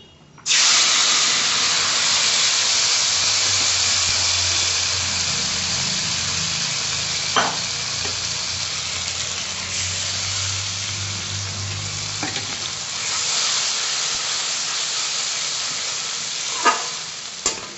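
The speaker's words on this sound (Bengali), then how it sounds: "সমস্ত কিছু মশলা দিয়ে দেখো ভালো করে কষিয়ে নিচ্ছি" Spice paste frying in hot oil with a dry red chilli and nigella seeds for a rohu fish curry, a loud continuous close sizzle and hiss with occasional sharp spatula taps against the pan.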